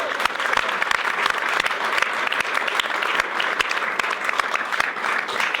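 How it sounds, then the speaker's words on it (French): A French television studio audience applauds a guest on a talk show, with loud, dense, continuous clapping that holds steady from start to finish. "C'est Aldo Stéron, on peut vous applaudir"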